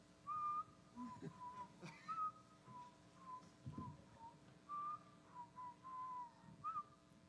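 A person whistles a slow, wandering tune in short phrases with brief pauses, fairly quiet, with a few soft knocks and movement sounds in between.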